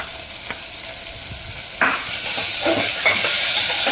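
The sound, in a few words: tomato added to peanuts frying in oil, stirred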